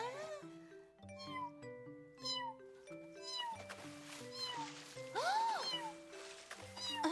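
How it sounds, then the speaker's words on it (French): Cartoon cat meowing, a few short stylized mews over a busy orchestral score with layered melodic lines and occasional chimes, the music loud throughout. "Un chat dans l'eau?"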